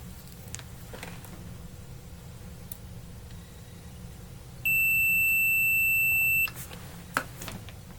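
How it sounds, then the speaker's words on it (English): Multimeter continuity beep while probing a Bally pinball sound board circuit: a single steady electronic tone held for about two seconds over quiet room hiss, with faint clicks around it. "So now we do a continuity check on that."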